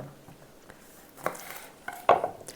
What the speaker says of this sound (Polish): San Marzano kroję na połówki.